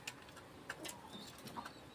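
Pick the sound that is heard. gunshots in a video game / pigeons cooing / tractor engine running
pigeons cooing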